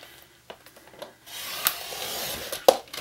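A paper trimmer slices off an extra half inch of paper while binding a recycled mini book, with soft rubbing and a quick sharp cut near the end, close and fairly quiet.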